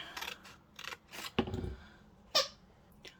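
Scissors snip through paper while a lapbook journal is cut out, giving several short crisp cuts and rustles at close range with small pauses between them.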